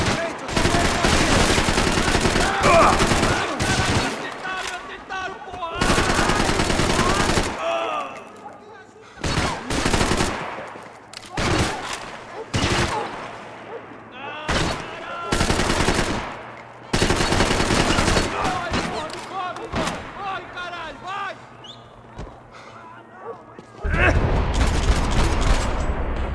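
Loud bursts of automatic gunfire and single shots in Max Payne 3, fired in repeated volleys separated by short pauses, with voices shouting between the shots.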